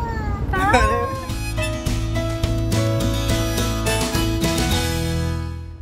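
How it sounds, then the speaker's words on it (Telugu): A cat song carries melodic meowing sounds over loud, continuous musical backing, the meows rising and bending in pitch near the start. "ఆ పిల్లి సాంగ్ అది మ్యావ్ అని అంటది"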